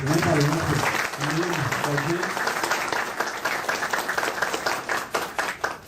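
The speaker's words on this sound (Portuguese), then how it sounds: "Uma salva de palmas" Audience applause at a community forum in Itaim Paulista, clapping building under a speaker's voice at first, then continuing as scattered, uneven claps.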